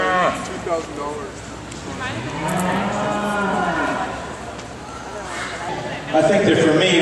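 Cattle at a livestock show heifer competition, a drawn-out moo rising and falling in the middle, with arena noise and someone talking over it.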